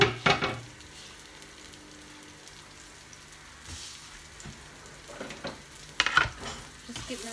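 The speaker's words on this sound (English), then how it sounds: "So I put all of my garlic and onions inside. Just give them a lovely fry" Garlic and onions fry quietly in a pan with a soft, continuous sizzle, broken by a few clattering stirs at the start and near the end.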